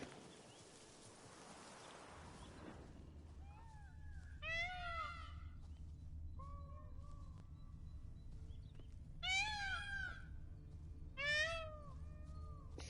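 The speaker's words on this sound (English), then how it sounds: "Sounds like a freaking sort of like a cat." Cat-like animal cries in The Witcher 3 Blood and Wine: several separate rising and falling meows, some clustered in quick bursts, over a low ambient rumble.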